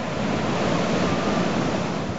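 Strong Atlantic surf breaking on the sandy beach at Dunmore Head on Ireland's Dingle Peninsula, a continuous loud wash of waves mixed with wind noise and no voices.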